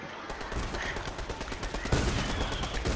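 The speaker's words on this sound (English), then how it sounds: "The whole world shot me." Loud, close automatic fire from a Fortnite match pours out in a fast, unbroken stream of shots, with a heavier impact partway through.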